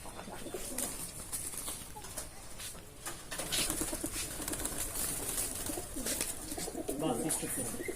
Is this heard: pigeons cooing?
yes